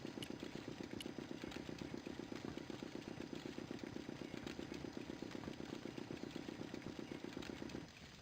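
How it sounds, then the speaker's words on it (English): A steady, rumbling engine in Broken Sword 2 runs at a close, even idle with a fast, regular chug, then cuts out near the end, leaving quieter background. "The engine stopped dead."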